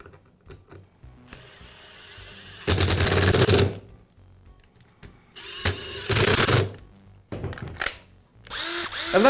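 Short bursts from a power tool driving screws into a DeWALT impact driver housing during a mechanism repair, three or four loud whirring runs separated by quiet handling clicks, close up.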